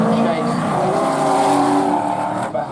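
Drift cars race at Driftland in the British Drift Championship, a loud, steady engine roar that holds throughout with a commentator talking over it.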